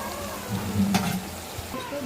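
Tomato paste frying in a pan, a steady close sizzle with a brief stirring scrape partway through.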